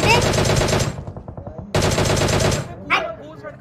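Loud, close bursts of rapid automatic gunfire in an online shooter video game, with two long volleys separated by a short pause and a final brief shot.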